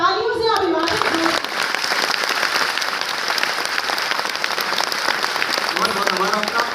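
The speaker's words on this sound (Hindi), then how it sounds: "एक बार तालियों से अभिवादन करें" Audience applause at a poetry event, broad continuous clapping from a large crowd lasting several seconds, following a brief spoken voice at the start and with a voice returning near the end.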